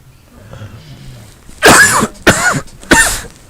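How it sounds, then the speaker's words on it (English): A person coughs three times in quick succession, close and loud, after a few moments of quiet. "Excuse my coughing."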